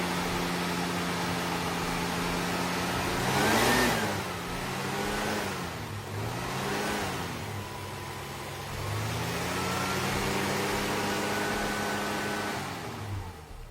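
The factory original slant six engine of a 1974 Dodge Dart Swinger runs steadily and close by, rising in several revs and settling back to a smooth idle between them.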